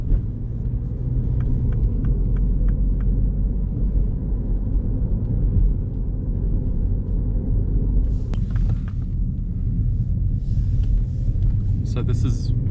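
A 2022 Mini Cooper S heard from inside while driving, with a steady low engine and road rumble throughout, a few faint interior clicks and rattles, and talk over it.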